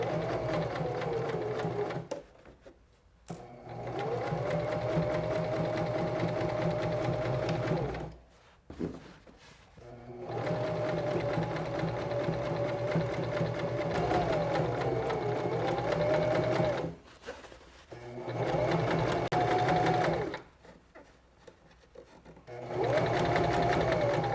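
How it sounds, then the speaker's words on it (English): A SINGER 1234 sewing machine stitches a band onto fabric for a tote bag, humming steadily through long runs of several seconds, broken by brief stops between seams. "we're just going to stitch along both edges to attach the band to the fabric"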